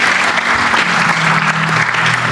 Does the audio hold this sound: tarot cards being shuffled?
no